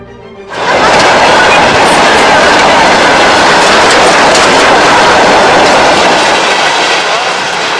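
A double-decker passenger train rushes past very close and loud, a sudden roaring wall of rail noise with rattling wheels that continues steadily.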